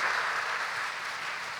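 College induction-day audience applauding themselves, a dense, even wash of many hands clapping at once, steady and sustained.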